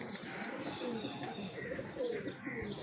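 A pigeon coos softly in low, throaty bursts, close by, over a busy noisy background.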